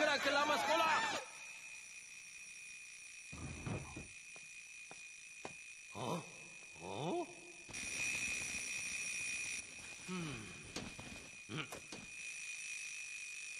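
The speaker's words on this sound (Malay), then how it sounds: "Cikgu, itu jam loceng saya lah." A high, steady electronic alarm clock tone rings on and off through the clip while people shout and talk over it, in a Malay-dubbed Doraemon cartoon.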